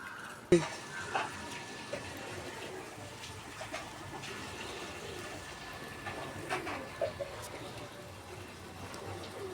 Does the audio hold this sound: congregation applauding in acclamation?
no